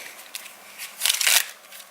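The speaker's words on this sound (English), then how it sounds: "If the spectator shuffles the card now" Crisp riffling of playing cards being shuffled close by, a few short flicks building to a louder burst in the middle, no voices.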